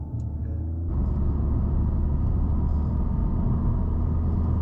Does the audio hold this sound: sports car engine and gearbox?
yes